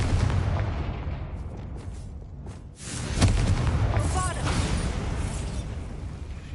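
The Confringo explosion spell goes off in Hogwarts Legacy: a booming blast with a sharp burst in the middle, surrounded by rumbling game noise and a voice speaking.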